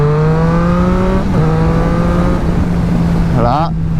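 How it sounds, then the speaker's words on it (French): Triumph Street Triple S motorcycle pulling away in first gear, its engine droning steadily and rising slightly in pitch, with a brief rev blip near the end against constant wind noise. "Hop, en première, je vais un peu accélérer."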